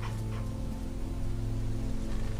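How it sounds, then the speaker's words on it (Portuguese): A dog in The Walking Dead Season 2 video game gives short yips and whimpers near the start, over a steady low hum. "Aí tem um cachorro."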